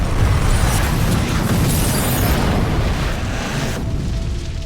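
Explosions from an air strike in a film roar as a dense, loud, sustained rumbling blast, a continuous wall of booming noise that eases slightly toward the end, with no talk.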